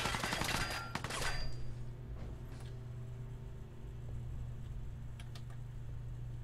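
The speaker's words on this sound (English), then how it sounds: "Who the hell was shooting at me?" Brief burst of gunfire in the Fallout 4 video game near the start, followed by a steady low hum with a few faint distant cracks.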